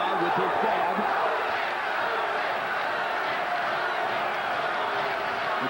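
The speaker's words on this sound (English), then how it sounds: "The crowd is chanting Rahman, Rahman." A boxing arena crowd at the Lennox Lewis vs Hasim Rahman heavyweight fight roars in a dense, steady wash of voices, chanting for Rahman throughout without a break.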